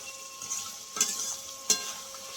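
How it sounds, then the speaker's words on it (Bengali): Fried rohu fish being stirred with cauliflower in a pan, a soft, faint sizzle with a couple of short scraping strokes, no talk. "ভেজে রাখা মাছ দিয়ে একটুখানি আমি নেড়ে চেড়ে নেবো এরকম মাছের সঙ্গে ফুলকপি"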